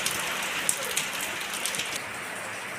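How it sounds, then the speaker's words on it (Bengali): Heavy rain falls steadily as a dense, even hiss of drops drumming on surfaces close by, continuous for a few seconds. "ভালো বৃষ্টি শুরু হয়ে গেল আমাদের এখানে এখন।"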